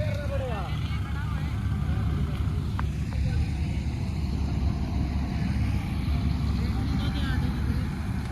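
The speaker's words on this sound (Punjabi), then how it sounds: "ਟਰੈਕਟਰ" A tractor engine runs steadily on a Punjab farm during wheat harvest, a continuous low rumbling drone throughout with outdoor background noise and a few faint higher sounds.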